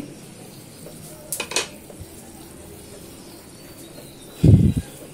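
Pointed gourd (potol) cooks in a pan with occasional metal clinks of a utensil against the pan, a brief scraping stir mid-way and a louder burst of clattering near the end, over quiet background with faint birdsong.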